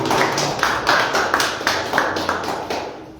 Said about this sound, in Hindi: वर्शिपिंग के लिए एक बार फिर से जोरदार ताली बजाइए।